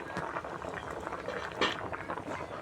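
A pot of eggs and potatoes boiling just after the lid comes off, a close, steady bubbling and gurgling of water that continues throughout with a brief louder burst, and no speech.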